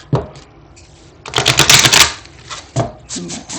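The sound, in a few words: tarot cards being shuffled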